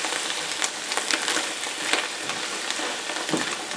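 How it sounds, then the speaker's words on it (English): Garlic butter steak with onions sizzling in a hot pan, a dense crackling fry with small pops and bursts of stirring, close and loud, no voices. "It's sizzling over here."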